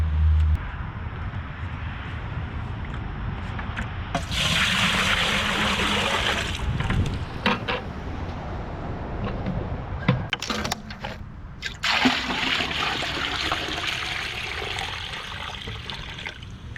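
Maple sap being poured into a turkey fryer outdoors, a steady rushing splash of liquid that swells and fades in several pours, with gurgling and brief container knocks between them.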